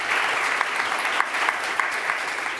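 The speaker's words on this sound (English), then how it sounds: "I think we can give them a round of applause." Steady clapping comes from a conference audience applauding panel speakers after a discussion, moderately loud with a few sharper individual claps standing out.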